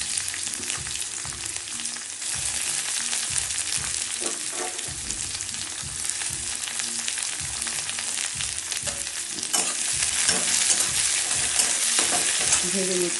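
Onion, green chili and spices sizzle and fry in a pan with steady, loud crackling, broken by repeated scraping stirs close by.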